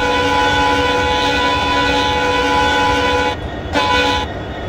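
A sustained, loud horn blast from a WDG4D diesel locomotive in the Railworks train simulator, steady and unbroken over a rumbling engine, briefly cutting out near the end as the train departs.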